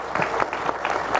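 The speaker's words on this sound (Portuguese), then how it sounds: "Vamos recebê-lo com uma salva de palmas." An audience at a farm forum on stage at Expointer 2018 welcomes a guest with a short round of clapping, a few distinct claps standing out over a thin crowd.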